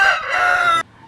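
A Pakistani fighter-breed rooster crows once, loud and close, a single strained, raspy call lasting under a second and cut off abruptly.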